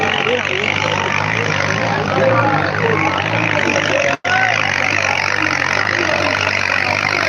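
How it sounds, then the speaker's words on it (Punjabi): A New Holland tractor engine roars nearby as it pulls a loaded trolley in a village trolley-pulling contest. The loud, continuous rumble cuts out for a moment midway, with voices heard over the noise. "ਹੋਲੈਂਡ ਦਾ ਕਮਾਲ ਕਰ ਗਿਆ ਯਾਰ ਤੂੰ ਆਣੀ ਟਰੈਕਟਰ ਹੋਵੇ ਹਨਾ"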